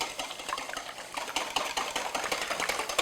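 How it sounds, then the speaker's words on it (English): A whisk beats three large eggs in a bowl with a rapid, even, rhythmic clicking and tapping against the bowl, close and moderately quiet, continuous throughout with no voices. "I'm just using my whisk to break up the eggs."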